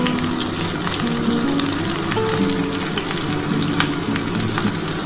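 Chicken sizzling in a pan with black pepper while being stirred, a steady loud crackle of frying oil running throughout with occasional scraping from the stirring.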